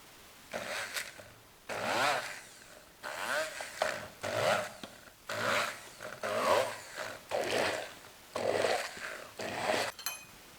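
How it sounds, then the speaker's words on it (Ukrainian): A blender pureeing strawberries whirs in repeated bursts, about eight pulses of loud grinding separated by short pauses, close up. "та переб'ємо блендером пюре"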